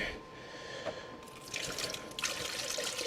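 Water is poured into the radiator of a turbocharged Datsun wagon, starting as faint drips and then rising into a splashing gush near the microphone.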